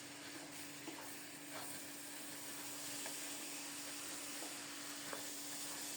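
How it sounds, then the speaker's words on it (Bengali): Fragrant kalijira pulao rice and green chilies are stir-fried in a pan, giving a faint, even sizzle with occasional soft scraping strokes. There is no talk. "ভালোভাবে নেড়ে চেড়ে চাউলগুলোকে একটু কষিয়ে নেব।"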